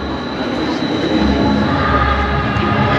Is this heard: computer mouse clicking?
no